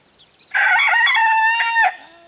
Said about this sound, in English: Buffington, I know that one right there is a rooster.